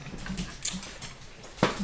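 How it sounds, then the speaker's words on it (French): A dog in a home kitchen during a live cooking show with beef steak makes soft, close snuffling and whimpering sounds, with a couple of brief sharp bursts and no talk. "On a un chien."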